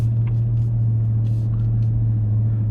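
A steady low drone from a Ford F-150 Raptor R's supercharged 5.2-litre V8, heard from inside the cabin in stop-and-go driving. It holds an even, constant hum with faint light clicks above it, and no one speaks.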